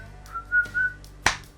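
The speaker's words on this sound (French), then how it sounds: "D'accord, je vais siffler." A person whistles a few short, bright notes in quick succession, followed by a single sharp click, quiet and close with nothing else around.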